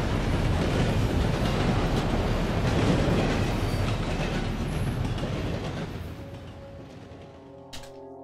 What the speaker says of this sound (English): Trains take off quick.